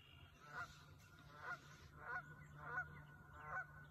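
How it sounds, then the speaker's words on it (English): Geese honk in a steady series of five loud calls about a second apart, near and clear over a low background hum, outdoors by a river where mink live. "the geese fly, or the geese stay put, they just honk"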